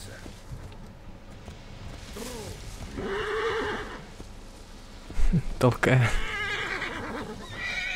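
Horses whinny twice in the Assassin's Creed Origins video game, a longer neigh in the middle then a sharper, louder one near the end, with hoof clops and someone talking over them.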